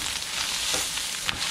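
Shrimp creole for Cuban camarones enchilado being stirred in a hot pan, giving a steady close sizzle with faint scraping through the short stretch.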